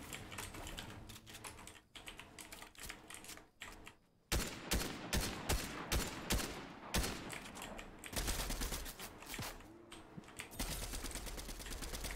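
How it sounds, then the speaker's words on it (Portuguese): Rapid bursts of gunfire in Fortnite rattle in quick repeated volleys, loud and close, mixed with clattering keyboard clicks throughout. "eu tô atirando no cara ali, velho. O cara atirando."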